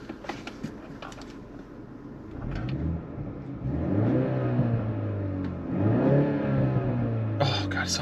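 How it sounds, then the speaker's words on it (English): A BMW exhaust in Sport Plus mode revs up with a rising engine note, building and falling in pitch, with a few sharp crackles and pops at the start and end. "So Sport Plus, if you code it into your car, will make the car crackle and pop more than it normally does."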